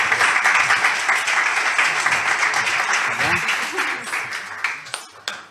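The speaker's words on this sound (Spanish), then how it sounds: "Un aplauso." An audience applauds a panelist at a round-table discussion on circularity; a steady crowd ovation runs loud and even, then thins into a few scattered claps near the end.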